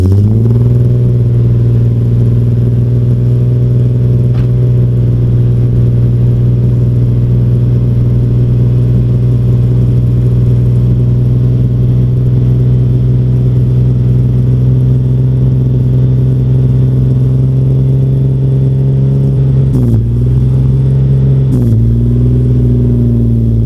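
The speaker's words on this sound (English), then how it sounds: "So to test that, we're gonna go on a drive." A car on a test drive, running low on gas after fitting cheap parts, hums steadily with a loud, close engine drone throughout, briefly dipping and shifting near the end as it slows or changes gear.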